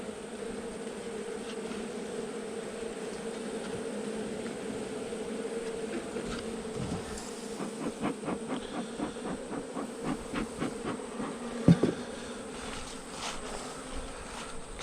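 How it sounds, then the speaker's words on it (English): A dense swarm of honeybees hums and buzzes inside a wooden hive box during an installation, a steady close drone with scattered tapping and rustling of frames. "still a lot of bees in this box."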